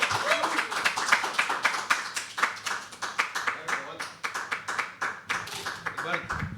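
A small crowd at a live poetry open mic claps steadily, with crisp individual hand claps close by and a voice talking over the applause throughout.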